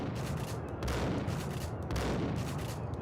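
Dense, continuous gunfire from the PC shooter game Max Payne, a rapid barrage of overlapping shots and booms filling the whole stretch at steady loudness.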